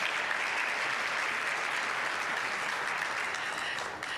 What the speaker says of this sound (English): One more round of applause now that she's out here.